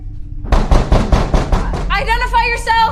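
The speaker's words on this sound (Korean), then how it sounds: "대답 없이 계속 문을 두드립니다." Rapid knocking on a door, about seven firm raps in quick succession, loud and close, followed by a voice speaking.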